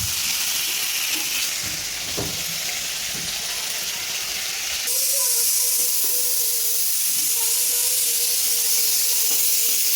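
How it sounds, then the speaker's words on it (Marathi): Onion, tomato and dalwa roast in a pan over a high gas flame while cooking mutton rassa, giving a continuous bright sizzling hiss that grows louder partway through, with occasional soft clinks and no voices. "याच्यामध्येच टाकणार आहे मी टोमॅटोमध्ये आणि कांद्यामध्ये आता हे सुद्धा भाजून घेणार आहे"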